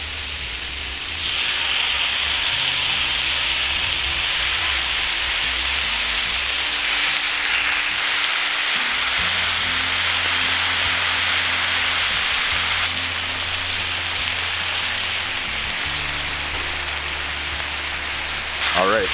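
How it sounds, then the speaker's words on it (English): Bacon-wrapped filet mignon steaks sizzle steadily on a Cuisinart 360 griddle, a loud, continuous hiss that fills the whole stretch, with a low hum from the cooking setup underneath and faint talk in the background. "And that sizzle is exactly what you want to hear."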